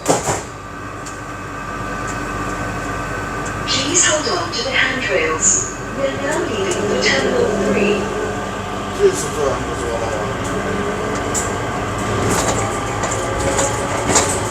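Rail noise rumbles as an airport train in Singapore pulls away, with people talking over it and occasional clicks and clatter from the tracks.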